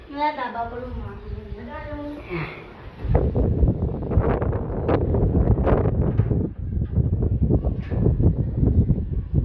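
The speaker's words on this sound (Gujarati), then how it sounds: "જોરદાર પવન" Strong cyclone wind buffets the microphone on a rooftop in loud, gusty bursts after someone speaks briefly at the start.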